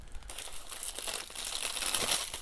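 A paper bag wrapper crinkles and rustles up close as it is pulled off a Hasbro Mr Sinister action figure, with soft irregular crackles building toward the end.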